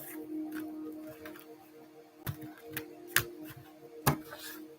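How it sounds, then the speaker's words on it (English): Tarot cards shuffled dealer-style, soft papery riffles and a few crisp snaps and taps over a faint steady hum, quiet and close with no talking. "going to shuffle a little different."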